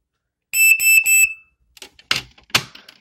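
A hard-wired household smoke alarm sounds during a test, giving three loud, shrill pulses in a steady temporal pattern, followed by a few clicks and handling knocks nearby.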